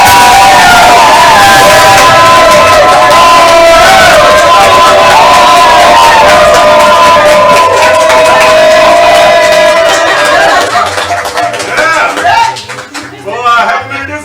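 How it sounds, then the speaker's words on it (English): Loud audience cheering and applause for improv comedy players taking the stage at a live show, a sustained roar of whoops and clapping that tapers off near the end as talk resumes. "let's give them a round of applause."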